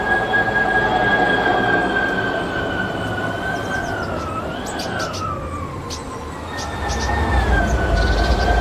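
Norfolk Southern train 1224 rolling past on the rail line near a diamond crossing, a sustained loud rumble with long squealing wheel tones and metallic screeches riding over it.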